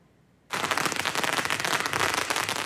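A long string of firecrackers hung from a crane in front of a temple bursts into dense, rapid crackling for a Lantern Festival celebration, starting abruptly after a brief quiet moment and continuing loud and sustained.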